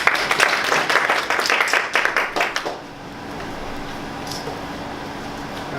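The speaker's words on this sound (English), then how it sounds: "Let's give all the speech evaluators a big round of applause." An audience gives a round of applause after a speech evaluation session, dense clapping for about three seconds that stops abruptly and leaves a quiet room hum.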